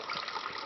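Juice poured in a steady splashing stream, close and continuous for under a second, with a liquid gush and no speech.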